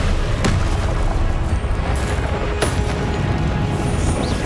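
A blasting spell explosion in the video game Hogwarts Legacy, heavy booming blasts over a continuous loud rumble, with sharp impacts near the start and midway and no speech over them.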